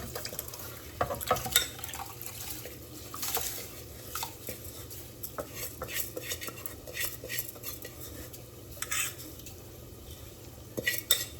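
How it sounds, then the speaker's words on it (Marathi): Soaked rice goes into a pot in a home kitchen and is stirred: scattered clinks and scrapes of a spoon against metal, with wet splashing and dripping, fairly quiet and close. "आता याच्यात आपण भिजवून ठेवलेली भात तांदूळ जो होता तो टाकायचा."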